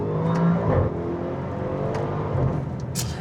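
Audi RS7 Performance with a ZF 8-speed automatic in dynamic mode, engine note loud and steady from inside the cabin, swelling briefly as the gearbox drops a couple of gears under acceleration.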